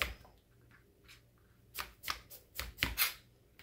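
A knife slicing through an onion on a cutting board, several crisp chopping strokes clustered in the second half, quiet and close with no talking.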